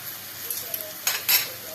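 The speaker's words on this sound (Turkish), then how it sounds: "Birazcık da salçamız kavrulsun." Tomato paste frying in oil in a pan: a steady soft sizzle with light scraping and stirring, and a couple of brief louder hissing bursts near the end.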